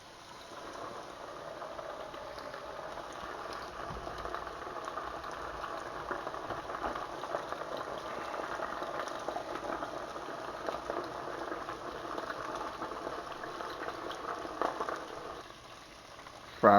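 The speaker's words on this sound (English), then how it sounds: "Now that I got my fish seasoned and floured, my grease should be hot. I just throw them bad boys on in there." Seasoned, floured crappie fillets deep fry in hot grease with a continuous dense bubbling hiss that holds steady throughout, ending in a brief louder knock.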